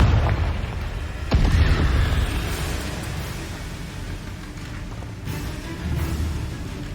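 Fire-spell explosion in the Hogwarts Legacy video game: a deep booming blast with a sharp burst near the start, a rumbling tail and a second swell later, loud and close with no talk.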